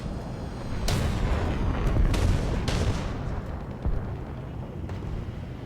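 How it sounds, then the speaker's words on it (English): Artillery shells landing in the tank game War Thunder, several heavy booming blasts a second or so apart over a loud, continuous rumbling battle background, no talking. "they're trying to hit me with artillery"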